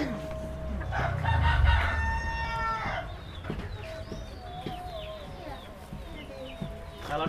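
Young Elba chickens cluck on a farm while a rooster crows loudly near the start, followed by scattered soft clucks and farmyard rustle.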